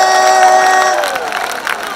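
Loud crowd at an African music festival in Montreal, a wash of cheering and shouting with sustained tones running through it, close and dense, then easing slightly toward the end.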